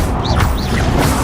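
In the Hogwarts Legacy video game, the Incendio fire spell goes off with a sharp, loud whooshing crash and rushing swish, brief and close with no talking.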